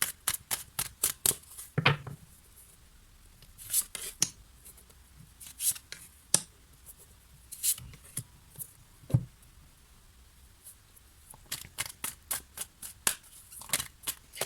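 Playing cards being shuffled and turned over in a card reading, with quick riffling bursts at the start and end and scattered soft flips and slaps between, close and quiet.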